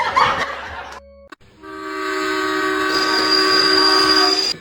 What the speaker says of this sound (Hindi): अरे काला का तू ट्रेन आ गया, ट्रेन आ गया।